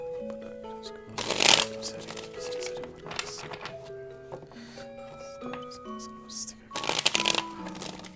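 Tarot cards shuffled by hand during a reading, two loud riffling bursts separated by quieter handling over soft background music.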